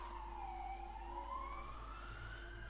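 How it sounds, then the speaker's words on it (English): An ambulance siren wails outside, its pitch sweeping in a long continuous rise and fall over steady low traffic rumble, moderately distant and unbroken throughout. "an ambulance"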